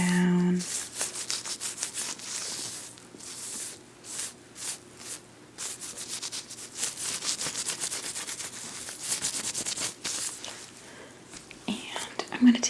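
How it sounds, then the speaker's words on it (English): Close, soft rubbing of a cloth wiped down a bare arm in an ASMR doctor roleplay, a steady swishing broken by short pauses, with faint whispering around it. "Just gonna wipe the whole arm down."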